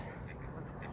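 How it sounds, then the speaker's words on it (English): Ducks quacking continuously at close range amid other water birds, including geese, while being fed, a dense overlapping chorus of calls with no talk. "Quacking."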